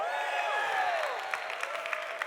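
Audience applause and cheering for Ron Paul at a liberty-movement conference, a steady wash of clapping from a crowd with scattered louder claps toward the end, while a voice speaks over the top.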